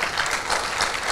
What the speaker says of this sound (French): Applaudissez pour ce beau film.